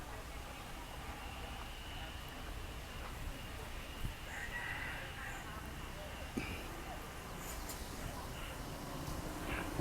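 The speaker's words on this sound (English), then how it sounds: "There's a baby chicken." Chickens cluck and a rooster crows amid a busy outdoor scene in Pattaya, Thailand, the fowl sounds faint and intermittent beneath steady ambient noise and voices.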